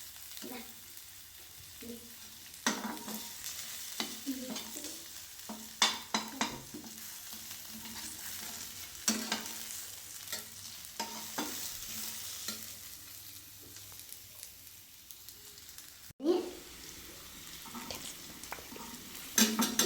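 Onions sizzle softly in a pan while a utensil stirs and scrapes against the metal in irregular, clustered knocks, with a louder clatter near the end.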